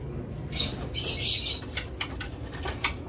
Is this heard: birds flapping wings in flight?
yes